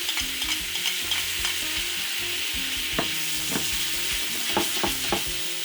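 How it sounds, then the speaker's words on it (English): Beef liver sizzles loudly in a hot pan, a continuous close frying hiss with bursts of stirring and utensil scrapes against the metal, and a low hum under it. "Now return all the liver into the pan."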